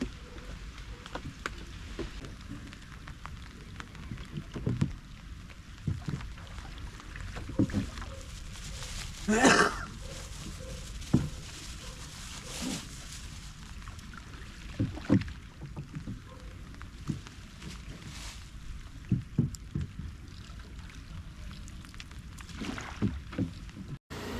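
A small country boat is pushed along with a bamboo pole on Munroe Island, giving scattered soft splashes and hollow knocks over a quiet, breezy background, with a brief voice at one point.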